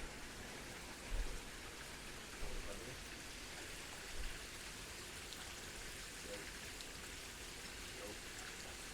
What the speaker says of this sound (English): You never know when you get these torrential downpours and it starts pouring